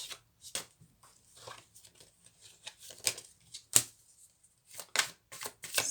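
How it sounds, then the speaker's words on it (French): Templar tarot cards are shuffled and drawn by hand, making a run of crisp riffling flicks and snaps in uneven bursts, close and clear with short pauses between, and no talk over them. "On va se tirer 6 cartes du tarot des Templiers."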